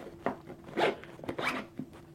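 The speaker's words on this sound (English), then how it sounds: "Easy to zip, still has the nice Sony branded zipper on there" Sony headphone carrying case zipper pulled in several short, distinct rasping strokes, close and fairly quiet, with no talking.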